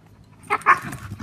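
Aggressive Malinois dog during a territorial aggression test, giving two sharp close barks in quick succession after a quiet moment, followed by lower growling noise.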